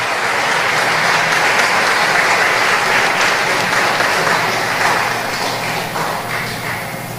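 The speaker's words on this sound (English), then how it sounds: "One more time, an applause for Miss Myrtle Joan Banner." Loud, sustained applause from an audience at a tribute ceremony for national patriots honoring an educator, a dense even wash of clapping that eases slightly toward the end.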